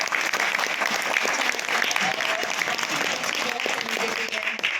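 Loud audience applause at the National School of Drama after a play, a dense continuous wash of clapping from a large crowd, with voices faintly underneath.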